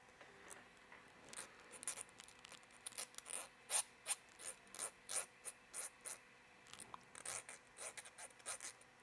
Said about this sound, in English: Then I'm going to take a file.